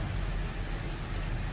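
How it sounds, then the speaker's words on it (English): Steady rain pours down during a wet walk through Charleston, South Carolina, a dense, even hiss of drops pattering on surfaces close by, unbroken and without voices. "And we get to hide here from the rain for a minute."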